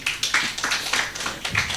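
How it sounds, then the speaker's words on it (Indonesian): A church congregation claps hands in praise during a sermon, a rhythmic series of sharp, fairly close hand claps at a steady pace. "berikan tepuk tangan bagi Tuhan"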